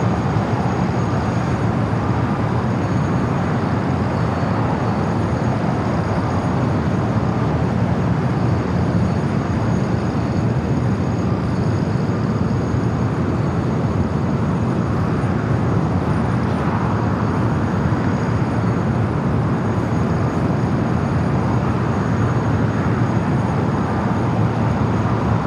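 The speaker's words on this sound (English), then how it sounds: "Flight to London Heathrow continues its taxi down Bravo." An airliner taxis along taxiway Bravo at Los Angeles airport, its engines a steady, unbroken roar that holds level for the whole stretch with no voices.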